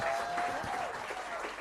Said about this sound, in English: Please can we give our panelists a round of applause.